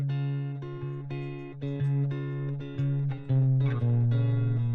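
Electric guitar playing a layered melodic line over a sustained low synth bass, with clean plucked notes in a steady rhythm, loud and close, no voices.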